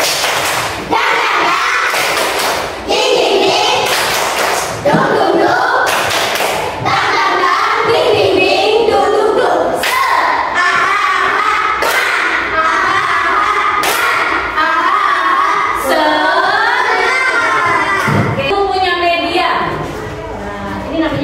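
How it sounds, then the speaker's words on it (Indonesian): A primary-school class does a rhythmic 'tepuk semangat' clapping chant, with sharp repeated claps and thumps keeping a steady beat under children's chanting voices and a teacher talking. "Oke, kita tepuk semangat."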